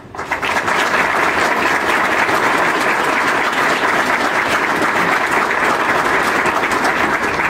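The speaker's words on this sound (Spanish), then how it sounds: "pido un fuerte aplauso" A large audience at a university event on higher education gives a loud, sustained round of applause welcoming guests, dense clapping that starts abruptly and holds steady from beginning to end.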